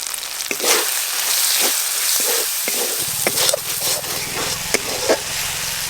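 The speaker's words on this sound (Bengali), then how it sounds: "সমস্ত মশলা খুব ভালো করে কষানো হয়ে গেছে, মশলা থেকে তেলও ছেড়ে গেছে" Ground spices with onion, ginger and garlic frying in oil, a steady close sizzle broken by scraping stirring strokes and clinks of a utensil against the pan.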